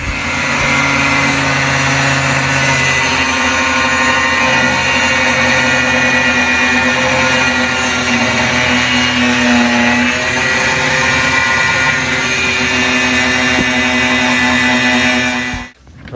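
A power tool cuts through a coil spring on a 1968 Mustang's suspension. It gives a loud, steady, high whine with a droning undertone that holds for about fifteen seconds before stopping abruptly.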